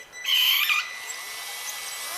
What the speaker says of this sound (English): I'm going to take it and slowly drill a little hole in there, a little bit bigger.